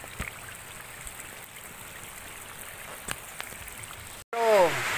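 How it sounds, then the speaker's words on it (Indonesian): Rain falling outdoors during a fishing trip for giant snakehead, a steady wash of drops across the whole stretch, with a voice calling out near the end. "Hujan ini, Om."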